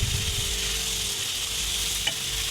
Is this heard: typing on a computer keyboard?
no